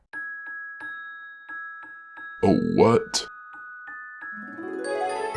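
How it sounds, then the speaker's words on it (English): A jingle-bells tune opens a video being watched: evenly spaced chimes over a sustained tone, then a burst of nearby talk and a rising, brighter chime passage at the end. "That was opening with jingle bells."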